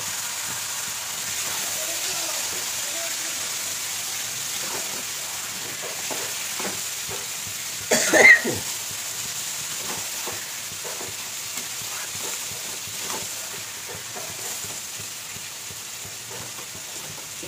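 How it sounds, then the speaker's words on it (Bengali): Marinated mutton frying in cooked-down spices, a steady hiss of sizzling oil with scattered soft crackles and one brief louder burst of stirring near the middle. "এই পর্যায়ে দিয়ে দিলাম হচ্ছে যে ম্যারিনেট করা মাংস"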